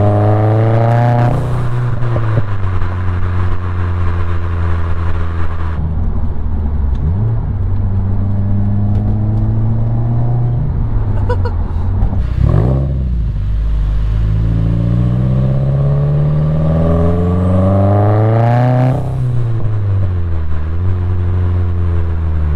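A tuned car fitted with an Invidia downpipe and high-flow catalytic converter revs loudly and pulls hard through repeated rising and falling engine sweeps, close up and continuous, with a whistling turbo edge and no voices.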